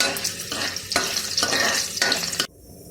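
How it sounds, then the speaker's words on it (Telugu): Ginger pieces frying in a pan over a low flame for a spicy chutney, a steady close sizzle broken by repeated stirring scrapes, the sizzle dropping off sharply near the end. "ఫ్లేమ్ సిమ్లో పెట్టుకొని అల్లం ముక్కలు వేయించుకోవాలి"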